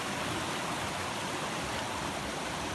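A wild river flowing through mountain wilderness in Maine, heard as a steady, broadband rush of moving water that stays even and continuous throughout.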